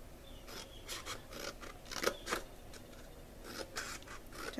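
Scissors snip through a cardboard Valentine's Day treat box in a quick series of crisp, close cuts, each a short rasping scrape with brief pauses between, heard alone in a quiet room.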